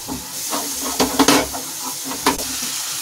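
Besan and masala roasting in a pan, a close, steady sizzle with a few bursts of scraping stirs, no voices.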